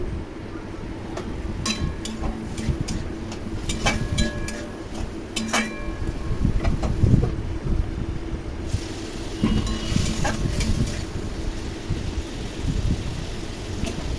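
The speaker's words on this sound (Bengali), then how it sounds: "ভালো করে নেড়ে নেড়ে কষিয়ে নিতে হবে।" Spices for a rohu fish curry fry in a hot pan, giving a steady sizzle as a spoon stirs and clinks against the metal in scattered taps throughout.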